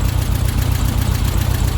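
VW Beetle engine idling at its baseline mixture setting with the choke fully off, around 850 to 900 RPM; a steady, close, pulsing low chug with a slight knocking rhythm runs alone.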